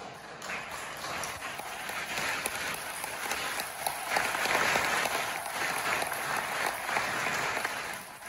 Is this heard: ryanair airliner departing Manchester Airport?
no